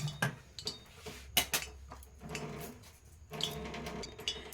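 Egg chop batter being mixed in a bowl, with spice powders and baking soda, giving close, irregular clinks and scrapes of a utensil against the bowl, in uneven bursts.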